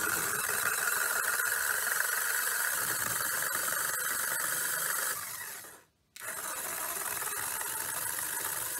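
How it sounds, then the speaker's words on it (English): A small robot toy spinning fast at its highest speed setting, giving a steady, loud mechanical whir and squealing rub that drops out briefly near the end, then resumes. "It spins faster one way than the other"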